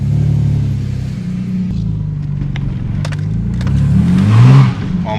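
A lowered Ford Falcon project car's engine rumbles steadily up close, swelling louder toward the end as it accelerates while driving, with faint clicks and rattles over the low drone.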